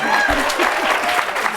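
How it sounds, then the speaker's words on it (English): Brief applause from the audience at a 2023 International Women's Day celebration, a short steady patter of clapping with a voice speaking over it. "Give them applause"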